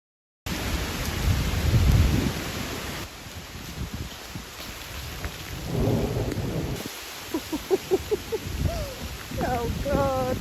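Heavy rain with big droplets falling in dark, overcast woods, a loud broadband wash with thunder-like rumbles, while a person speaks and exclaims intermittently over it.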